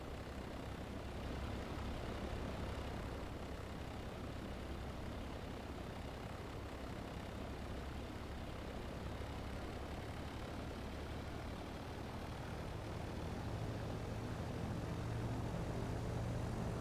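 A light aircraft's piston engine runs up with the parking brake set in the Wing42 flight simulator, giving a steady, loud, low droning roar throughout that builds slightly toward the end.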